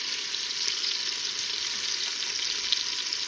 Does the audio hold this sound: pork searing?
yes